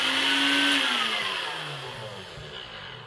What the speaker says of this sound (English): Let's get this NutriBullet on the go anyway.